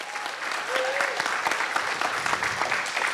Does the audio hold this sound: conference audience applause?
yes